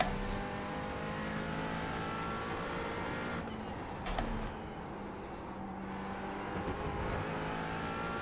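McLaren GT4 race car engine in the iRacing sim at VIR, a steady in-car drone at moderate level with a brief shift or blip midway and no talk.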